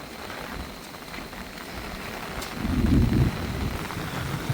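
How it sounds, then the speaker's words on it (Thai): Steady rain falls over a rural farming area in Thailand, a constant broadband hiss that swells briefly into a louder, heavier wash near the middle before settling back, with no voices. "ฝนตกแค่นี้ก็ดีใจแล้วพี่น้อง"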